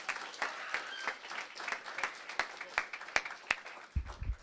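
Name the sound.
audience round of applause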